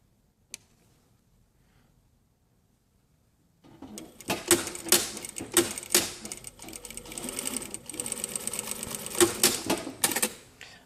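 A sewing machine stitches a jacket lapel: after a single small click and a few seconds of near silence, the machine starts up close by with a rapid, uneven mechanical chatter in short bursts that speed up and slow down.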